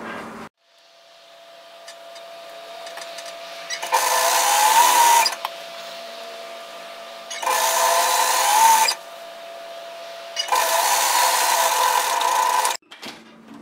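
A sewing machine runs in three steady bursts, stitching the centre back seam of an apron dress, with quiet pauses between each run.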